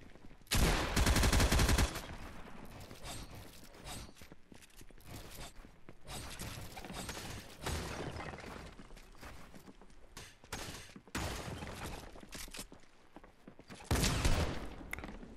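Automatic gunfire in Fortnite Mobile, loud bursts near the start and end with steady rapid shots and clatter in between.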